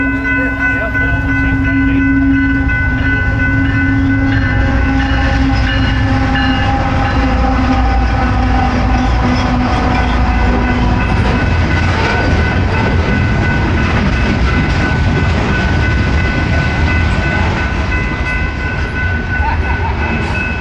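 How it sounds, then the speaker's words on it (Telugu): A goods train rolls past close by, a loud continuous rumble and clatter of wagons with a long horn tone in the first half, steady throughout. "మేము ఇక్కడ ఉన్నప్పుడు ఒకటి గూడ్స్ ట్రైన్ అయితే వెళ్తుంది"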